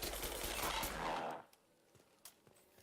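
A short, loud burst of machine gun fire in Mass Effect 2 rattles for about a second and then cuts off, leaving a few faint scattered clicks and taps.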